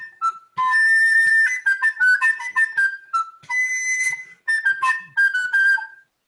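A woodwind plays a run of quick, bright notes with fast trills starting from the upper note, played solo and close in a masterclass setting, with short pauses between phrases.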